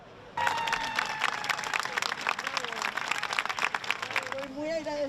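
Applause in a television newsroom broadcast, a moderate steady patter of clapping hands with a voice talking over it and a brief louder tone near the end.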